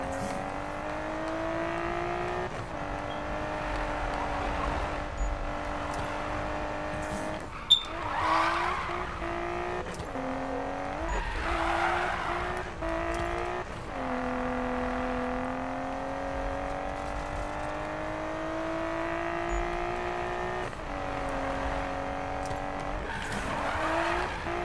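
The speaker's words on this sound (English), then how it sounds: "I don't fully know how to drift this GTR." A Nissan GT-R drifting in the Need for Speed video game, its engine holding a steady drone while long tire squeals and skids rise and fall across the run, loud and continuous with no talk.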